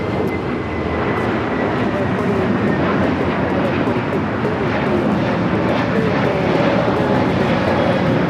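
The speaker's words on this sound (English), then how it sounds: "That's Frontier 4130 taking off to Salt Lake City on the A321 Neo" A Frontier Airbus A321neo takes off from LAX, a continuous, loud broadband jet roar holding steady throughout.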